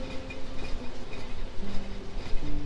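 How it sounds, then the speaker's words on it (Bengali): Chitra Express crawling through Singia railway station at walking pace, a steady low rumble of wheels and carriage noise with faint tonal hums, moderately loud and continuous. "মেবি 5 কি 6 কিলোমিটার স্পিডে থ্রু পাস যাচ্ছি আমরা সিঙ্গিয়া রেলওয়ে স্টেশনকে।"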